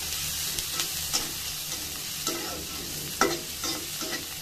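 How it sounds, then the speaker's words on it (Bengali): Two medium chopped onions fry with snake gourd in hot oil, a continuous sizzle with repeated close scrapes of a spatula stirring through the pan, and no talking. "আমি এখানে প্রায় 2টো মিডিয়াম সাইজের পেঁয়াজ কুচি করে নিয়েছি, সেটাই দিয়ে দিলাম। দিয়ে সুন্দর করে নেড়ে চেড়ে নিব।"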